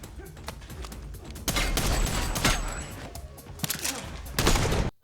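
Bursts of gunfire from a fight scene in the 2019 action movie John Wick: Chapter 3 – Parabellum, loud sharp volleys in a few clusters over roughly five seconds, with a viewer's voice faintly under the action.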